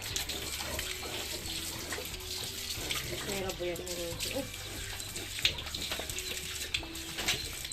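Water running from a tap, a low steady flow under background noise, with faint chirps of pet birds nearby and no clear speech.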